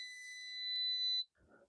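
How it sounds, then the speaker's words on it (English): Multimeter continuity beep while testing a newly fitted SMA connector on a NooElec magnetic-mount antenna: one steady high tone held a little over a second, then cut off, followed by a faint rustle. "we're listening for the beep anyway"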